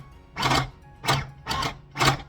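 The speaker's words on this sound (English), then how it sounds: "So I switched to using my overlock machine." An overlock machine stitches a zippered one-piece cushion cover in four loud, close bursts of whirring, each lasting about half a second, with short pauses between them.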